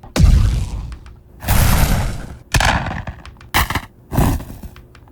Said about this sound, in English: So that's like the little extinguish sound I have in there.